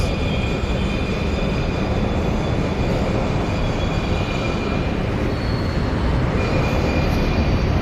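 A loud, steady rumble of a metro train at a station with faint high squeals, constant and close, filling the whole stretch without any talking.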